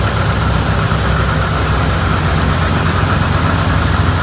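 A Farmall C tractor engine runs steadily in cold weather, a loud, close, continuous rumble with an even idle throb and no pauses.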